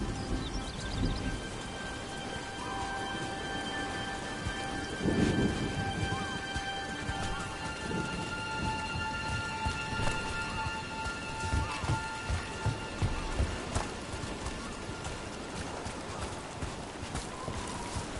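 Rain in Dragon Age: The Veilguard falls as a steady, dense hiss through the whole stretch, with a low thunder rumble rolling in around the middle and scattered clopping, dripping knocks over the wash.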